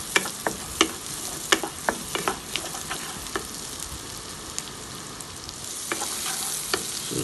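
Carrots sautéing with onion and garlic over a high flame, a loud continuous sizzle broken by frequent sharp clinks and scrapes of a spatula against the pan, close up, no voices.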